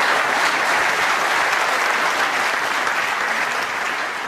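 Sustained applause from a large snooker crowd at the Crucible during the 2016 World Snooker Championship, a dense, steady roar of clapping that fills the hall without letting up.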